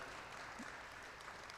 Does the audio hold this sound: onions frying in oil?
no